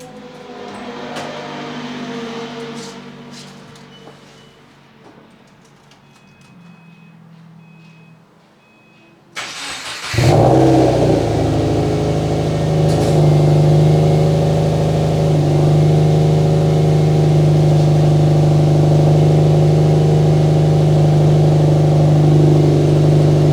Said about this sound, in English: Obviously a pretty good sounding Subi.